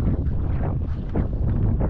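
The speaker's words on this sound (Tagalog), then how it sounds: "Dahil malakas po ang hangin." Strong wind at sea buffeting a boat, heavy gusty rumble and microphone wind noise blowing continuously and loudly, with no talking.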